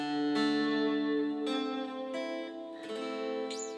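Guitar chords strummed one after another, each ringing out clearly and sustaining before the next is struck, quiet and close with no talking.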